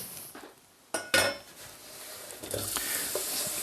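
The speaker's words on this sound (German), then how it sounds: "Da kommt in den Topf ein bisschen Öl rein und dann die Zwiebel." Onions with a little oil go into a pot and begin to sweat, with a couple of sharp utensil clinks against the pot followed by a rising soft sizzle and stirring.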